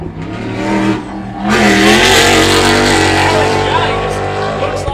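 Race car in the AORRA Riverland Enduro at Waikerie blasting across the start-finish line, a loud close engine roar that swells and holds with shifting pitch as it passes, commentary running underneath.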